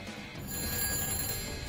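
An old-style telephone bell rings continuously as a comedic sound effect, a bright metallic trill that holds fairly loud and steady throughout with nobody talking over it.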